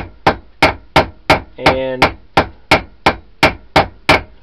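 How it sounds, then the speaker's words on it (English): Hand hammer striking hot steel while forging a patch knife, a steady run of about a dozen sharp, loud metallic blows at an even rhythm, with one longer ringing note partway through and a brief spoken word. "you want to stop hammering"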